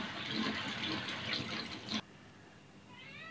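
Water splashing and running over a clay cooking pot as it is rinsed clean, a close hissing wash for about two seconds that then cuts off into quiet.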